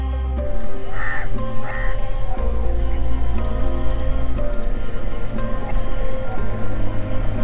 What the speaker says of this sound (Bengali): এখানে চারিদিকে শুধু পরিযায়ী পাখিরই সমাগম, শীতকালে সব আসে।